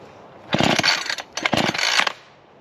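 A Husqvarna 440 chainsaw with an 18-inch bar revs in two short loud bursts close by, dropping to a quiet idle between and after them.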